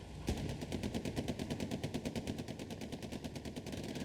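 A tank's hull-mounted machine gun in Hell Let Loose fires a long, rapid, unbroken burst, its even rhythmic rattle loud and steady for several seconds, with no voices.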